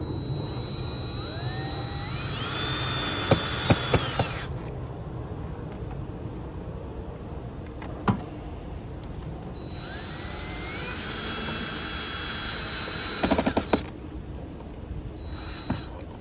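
A cordless power driver runs screws into a Chrysler Pacifica's air filter housing in two long whirring bursts, each rising in pitch and ending with a few clicks, close and loud.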